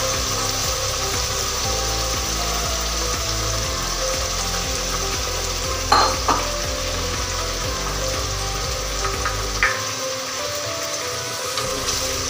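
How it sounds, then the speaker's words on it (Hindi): Onion and almond puree masala frying and being stirred in a pan for chicken curry, a steady close sizzle with scattered scraping clinks of the spoon, no talk over it. "इसको अच्छे से भूनेंगे"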